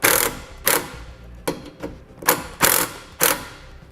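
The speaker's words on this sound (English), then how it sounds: "we'll mount our connector to the prongs off of our base plate using the self-tapping screws that came with the base plate" Self-tapping screws are driven through a connector into the prongs of a base plate on a 2017 Jeep Wrangler: six or seven short, sharp whirring bursts from a close power driver, separated by brief pauses.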